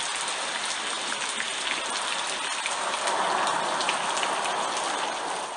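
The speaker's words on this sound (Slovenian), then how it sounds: "Takoj na to je začel padati rahel dež." Light rain falling steadily, a dense, even patter of drops on surfaces close by, continuous and with no voices.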